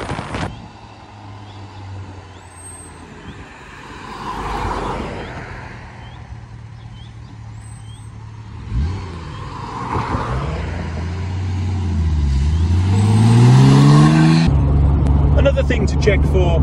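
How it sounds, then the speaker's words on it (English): A Triumph TR6 accelerates through the gears, its engine note climbing in rising sweeps, dropping at each shift and building again, growing louder toward the end with a faint voice over it. "Should accelerate smoothly through the gears."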